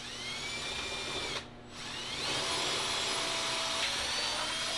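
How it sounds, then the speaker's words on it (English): A power drill bores a 1/2 inch hole through trailer framing in a cargo camper conversion, a steady close whine with a brief pause before spinning back up louder. "Drilled a 1/2 inch hole so that I can run my wire through."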